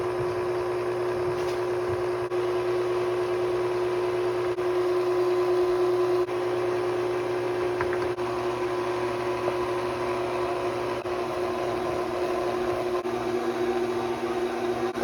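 A stand mixer kneads pizza dough with a steady electric motor drone and a constant mechanical whine, running evenly and close by for the whole stretch without speech.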